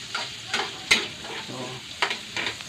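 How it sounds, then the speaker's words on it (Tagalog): Onion and garlic sauté in oil in a pan, a close crackling sizzle punctuated by several quick scraping stirs and light clinks of a spatula, with no one speaking. "So, igisa ko na sibuyas,"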